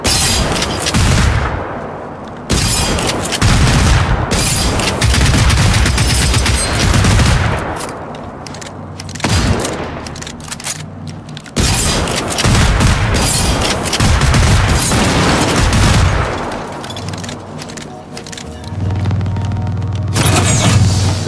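In the video game Generation Zero, dense bursts of gunfire and heavy explosions roll almost continuously, loud and booming, with brief gaps between volleys and no voices heard.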